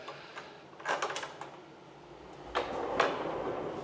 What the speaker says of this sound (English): this pocket door right here that opens up into the ensuite.